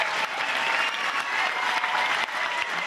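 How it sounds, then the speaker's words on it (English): A live comedy show audience applauds new comedians with a dense, steady burst of clapping lasting a few seconds and no voices over it. "Give them all a round of applause, yeah."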